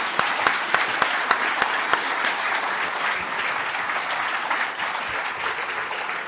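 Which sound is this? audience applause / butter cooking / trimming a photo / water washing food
audience applause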